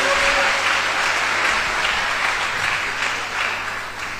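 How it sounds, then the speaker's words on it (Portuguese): A church congregation claps loudly and continuously for several seconds, a dense sustained wash of applause with a faint hum underneath. "Então levanta um aplauso a Ele bem forte nesta noite."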